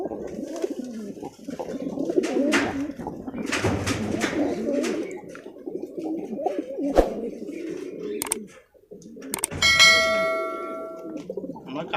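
Angel fancy pigeons at a breeding farm coo in a steady, overlapping murmur, with a few brief bell-like tones near the end.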